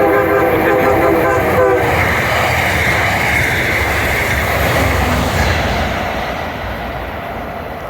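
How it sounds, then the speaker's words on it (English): An MBTA commuter rail train passes through Forest Hills Station, opening with a loud sustained horn blast that gives way to a steady rumble and rolling clatter of cars, fading slightly toward the end. "here comes my first ever MBTA train passing through."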